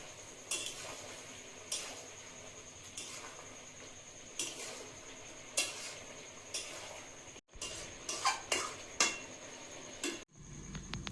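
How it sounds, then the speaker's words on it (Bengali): Vegetables stirred in a cooking pan, a series of close, sharp scrapes and clinks of a utensil against the pan at irregular intervals over a faint steady background. "সবজিটা একটু নেড়ে দেবো।"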